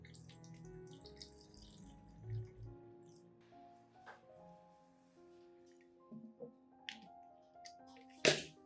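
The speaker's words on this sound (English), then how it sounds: "Pour the remaining solution into a specialized spray bottle." Orchid-care solution poured into a spray bottle, with soft liquid trickling and dripping in short bursts, quiet and close, ending in a sharp splash-like sound.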